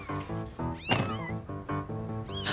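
Cartoon kittens meow repeatedly in short, bright, close calls, one after another, with a brief caterwaul-like squeal partway through and no talking over them.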